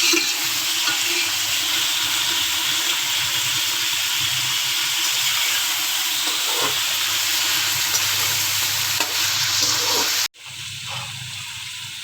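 Chicken frying in a hot pan while being stirred, cooked for a chicken potato curry. A loud, steady sizzle with scraping stirs runs throughout, then cuts off abruptly and continues as a quieter sizzle near the end.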